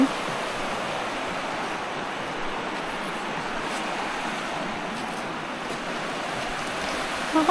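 Steady broadband wash of waves on the Lake Superior shoreline, continuous and fairly loud with no voices, like surf rolling in close by.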